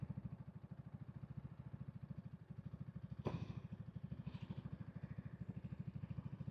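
Motorcycle cruising along a road, its engine throbbing in a steady, rapid rhythm close by, with no talk over it.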